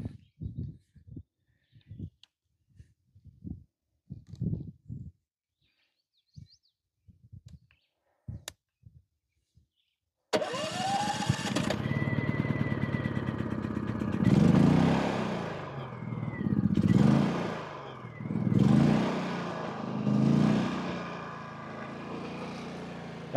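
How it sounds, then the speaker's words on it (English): A Predator 3500W generator engine starts up after a stretch of scattered small knocks and settles into a steady, close, continuous hum with slow rhythmic swells in loudness. "That's probably the quietest generator I've ever seen in my life."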